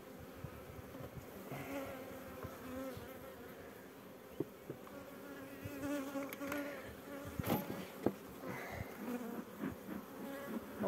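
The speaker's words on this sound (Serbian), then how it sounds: "Ove su mnogo i mirnije pčele." Calm honeybees hum around a hive in an apiary, a continuous close buzz of many insects with small clicks and knocks mixed in over several seconds.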